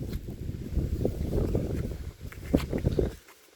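Steady outdoor wind buffeting the microphone in a park by the water, a constant low rumble with a few brief knocks and footsteps near the end before it drops away.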